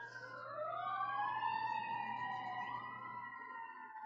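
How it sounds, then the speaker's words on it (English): Wailing sirens of a fire engine pumper truck rise and sweep as the vehicle passes at a distance, the sound fairly faint with overlapping wavering tones. "And here comes some more sirens."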